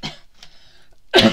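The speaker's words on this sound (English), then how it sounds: "coughing." A person coughing close by: a sharp cough at the start, a quiet pause with faint small noises, then another loud burst of throat clearing at the end.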